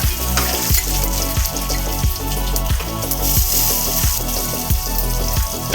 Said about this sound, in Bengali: এর মধ্যে জিরে, তেজপাতা, শুকনো লঙ্কা ফোড়ন দিয়ে দেবো।